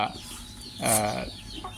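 Backyard farm chickens cluck close by in a short burst, with a louder squawk in the middle over a low background murmur.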